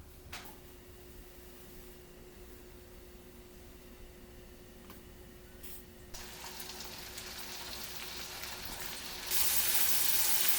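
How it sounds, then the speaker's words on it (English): Scallops pan-searing in butter in a hot pan give a steady, close sizzle that builds gradually and turns loud and bright toward the end, with no talking. "First, we're going to pan-sear the scallops in butter."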